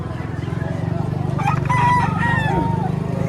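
A rooster crows once, fairly near, over a steady low engine-like rumble and background chatter at a market in Padre Garcia, Batangas.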